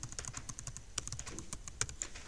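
Someone types on a computer keyboard during an online session, a quiet, close run of irregular, quick key clicks with a few sharper taps, no speech over it.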